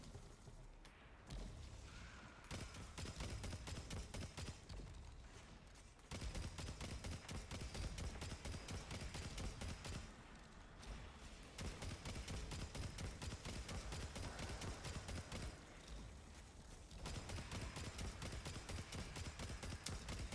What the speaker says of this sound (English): I think I missed every shot. This shotgun, is it any good?